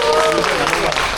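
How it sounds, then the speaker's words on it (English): A theme-park show audience at a film attraction claps briefly and fairly close, with a voice talking over the short burst of applause. "Applause for him, everyone"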